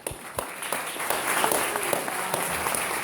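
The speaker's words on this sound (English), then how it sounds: "Claps to Ruchi." Applause from a press conference audience at the People's Assembly, a steady wash of many hands clapping close by for about three seconds with no talking.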